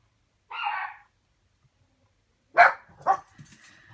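A dog barks indoors at home: one short bark, a long silent pause, then two or three quicker barks close together, fairly near and clear against a quiet background.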